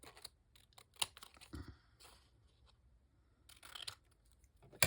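Quiet, intermittent scissor snips and crisp paper rustles come in short bursts, close up, with pauses between the cuts, as lacy paper pieces are cut for a craft project.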